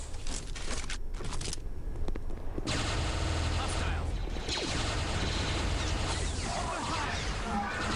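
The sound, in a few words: gunfire in Star Wars Jedi Knight II: Jedi Outcast video game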